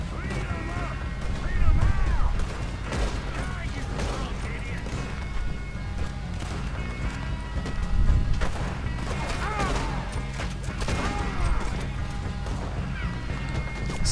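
Repeated bursts of Red Dead Redemption 2 gunfire and explosions, some heavy booms, mixed with game music and effects while someone talks over it.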